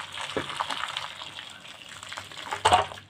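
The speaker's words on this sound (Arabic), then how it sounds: "نحط عليها ميه سخنه" Hot water pours from a kettle over cauliflower in a pot. The splashing pour runs for a few seconds and ends in a louder gush.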